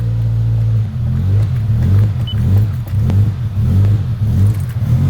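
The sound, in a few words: car engine idling roughly with no throttle response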